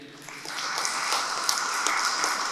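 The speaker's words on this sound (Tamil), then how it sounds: "நல்லா கைதட்டுங்க." Church audience clapping at a preacher's urging, a steady wash of hand claps that swells slightly and holds at moderate distance.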